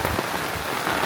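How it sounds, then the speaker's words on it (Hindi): Heavy monsoon rain pours down in Manali, a dense, loud, steady patter of drops hitting nearby surfaces with no pause and no voices. "डेडली बारिश हो रहा सामने"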